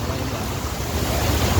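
Water pours steadily at Amboli waterfall with a dense, continuous rush and some wind buffeting the microphone, loud and close, with no clear voices.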